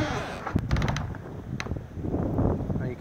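An off-grid cabin door creaks open with mechanical clunks and rattling latch clicks, a few sharp knocks standing out over a rumbling background of wind.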